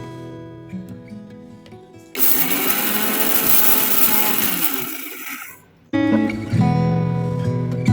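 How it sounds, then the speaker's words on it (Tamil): A kitchen mixer grinder coarsely grinds roasted rice in a loud, harsh whirring burst of a few seconds that then cuts off, with quieter kitchen clatter before and after the run. "இதை வந்து ஒரு கொரகொரப்பாக வந்து அரைச்சி எடுத்துக்கலாங்க"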